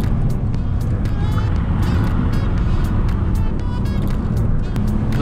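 A Toyota Yaris 4 with a 120 hp petrol engine is heard from inside while driving, giving a steady, loud low engine drone with road rumble and a regular faint ticking throughout.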